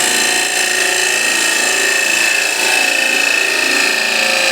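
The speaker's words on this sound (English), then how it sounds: "So we go straight into the wood, open up a gouge a little bit." A wood gouge cuts steadily into a timber workpiece, giving a continuous close scraping and shaving rasp that holds without pause from start to finish.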